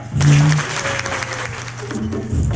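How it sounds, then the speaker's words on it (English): Audience at a Capital Tiger Bay Club luncheon gives a loud, sustained round of clapping that swells quickly and carries on to the end, close and full, with a few voices faintly mixed in. "really give it a nice little applause line, to our Superintendent of Schools, Rocky Han"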